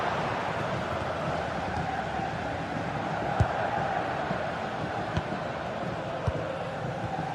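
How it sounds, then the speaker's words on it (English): A football stadium crowd roaring steadily as it urges its team on for an equaliser, a broad distant wash of noise with a few sharp knocks breaking through. "Well, just listen to this crowd. They want a bit more."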